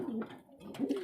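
Racing pigeons readying for a derby race give low throaty coos, two bubbling calls close by with a pause between them.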